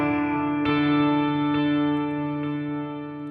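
An electric guitar played through a Line 6 Helix with heavy reverb and delay, a sustained chord ringing out with a few soft picked re-attacks, rich echoing tails blending together and slowly fading near the end.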